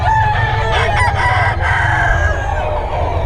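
A rooster crows loudly and close by in a farmyard, its strained call rising and falling over a steady low rumble of background noise.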